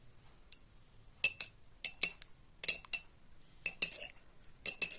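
A metal spoon clinks repeatedly against a glass while stirring aloo bukhara and tukhm balanga sharbat, with bright, close, irregular taps in small clusters and no talking.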